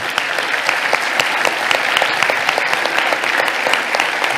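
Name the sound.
congregation applauding in church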